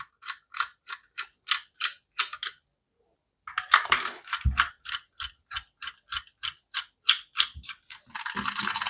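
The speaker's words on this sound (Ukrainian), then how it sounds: "І болт тут, другий і третій. Ми їх викручуємо." Bolts on Skyzone O4X Pro FPV goggles are unscrewed with a small driver, giving a steady run of crisp, close ratcheting ticks in short bursts, a brief pause, then more clicking and handling noise.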